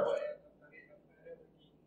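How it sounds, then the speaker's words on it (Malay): A single short burp erupts at the start, loud and close, then trails off into quiet with a faint breathy sound after. "Bagi sendawa."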